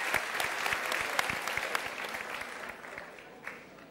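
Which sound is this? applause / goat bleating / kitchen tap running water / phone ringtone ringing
applause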